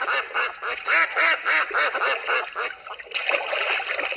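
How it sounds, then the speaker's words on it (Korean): A duck from a children's animal-sound book quacks in a quick run of about a dozen close, nasal calls, then pauses, with a faint splash of water as the quacking resumes. "오리가 꽥꽥,"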